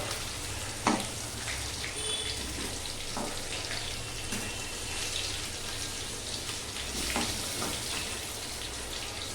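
Chicken cheese balls deep-frying in oil, giving a continuous, fairly loud bubbling hiss with a few brief crackles and no talking.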